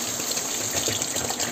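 Steady rushing water from a 1-litre bottle pouring into a cooking pan of sautéed vegetables for rava kichadi, without a break, a broad, even gush with no voices.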